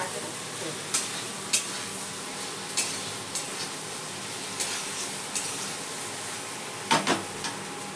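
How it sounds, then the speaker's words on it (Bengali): Fried vegetables being stirred in a pan while making sukto, with soft scraping strokes and utensil clinks at irregular intervals over a faint, steady sizzle. "এবার আমি সমস্ত সবজিগুলো যেগুলো আমি ভেজে রেখেছিলাম সেগুলো সব দিয়ে দেবো। দিয়ে ভালো করে একটু নাড়াচাড়া করব।"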